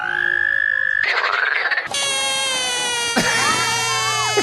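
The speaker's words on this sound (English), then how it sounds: "all of those frogs were basically saying" Frogs call out in a series of loud, distinct mating calls: sustained tonal croaks and trills that shift abruptly from one call to the next, close and clear with no talking.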